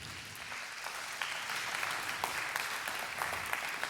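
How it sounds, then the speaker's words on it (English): Audience at a live Sukkot 2019 feast gathering applauds quietly, a soft, even patter of many hands heard from a distance for a few seconds. "You're all applauding now"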